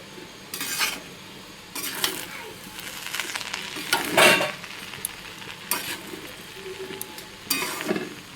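Basanti pulao is stirred in a pan with a spoon, making repeated scraping and clinking strokes at an irregular rhythm over a faint frying sizzle, close and clear.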